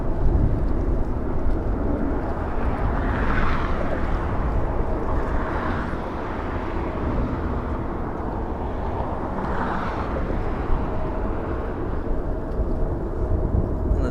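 A Qatar Airways airliner taxiing at LAX, heard as a steady, loud, broadband engine roar with slow swells and no breaks, rumbling continuously throughout.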